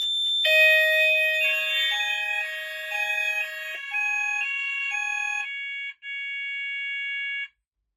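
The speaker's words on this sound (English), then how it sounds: "That set the alarms off" Fire alarm sounders triggered by a Kentec Syncro fire panel give loud, pure electronic tones in a repeating two-pitch pattern. After a brief dropout they hold a steady tone, then stop abruptly.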